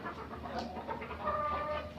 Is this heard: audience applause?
no